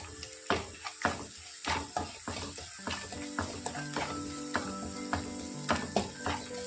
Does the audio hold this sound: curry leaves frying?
yes